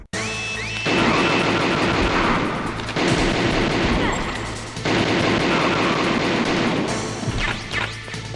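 Heavy gunfire in a Metal Gear cutscene, long sustained bursts of automatic fire with crashing impacts, loud and close, broken by short pauses and shouted voices.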